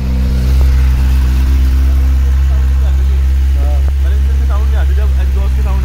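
A new motorcycle engine runs loudly and steadily close by on a road trip, its low throb continuous while a voice talks over it.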